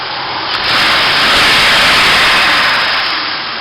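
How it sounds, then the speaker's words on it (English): A car engine is revved up from idle, producing a loud, steady roar that swells after about half a second, holds high, then eases slightly toward the end, with no talking. "let me rev it up a little bit"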